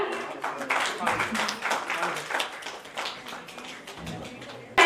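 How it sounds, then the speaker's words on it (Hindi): Audience applause at a poetry society's annual festival session, a dense, steady patter of many hands clapping at moderate loudness for about five seconds, ending with a sharp louder burst. "तालियां"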